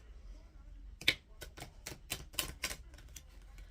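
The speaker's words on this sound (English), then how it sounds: "shuffle the deck the best that I can" Playing cards shuffled by hand in the old-school way, a run of quick crisp riffling clicks and snaps, close and fairly quiet, with a brief voice audible.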